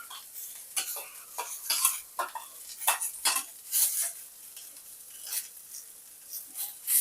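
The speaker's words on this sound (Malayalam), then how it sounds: "അതിലേക്ക് നമുക്ക് ഈ ഉള്ളിയും ഈ 2 അല്ലി വെളുത്തുള്ളി ഉണ്ടല്ലോ, അത് നമുക്ക് അതിലേക്ക് ഇട്ട് കൊടുക്കാം." Onion and two cloves of garlic sauté in a clay pot under a soft sizzle, broken by repeated scraping and clinking strokes of a spoon stirring; close up and without talk.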